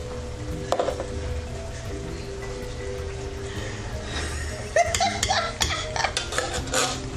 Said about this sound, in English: So you add both of the beans to the pan.